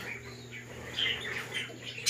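Budgerigars chirp inside an aviary, with faint, scattered tweets and squawks over a steady low background hum.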